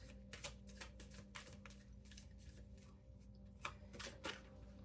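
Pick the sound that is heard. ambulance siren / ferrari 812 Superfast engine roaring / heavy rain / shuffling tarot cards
shuffling tarot cards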